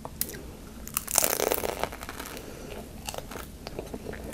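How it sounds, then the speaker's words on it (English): A crunchy fried egg roll is bitten and chewed close up, with a sharp crackling bite followed by softer, irregular crunching chews at a quiet level. "Let's go ahead and try this egg roll."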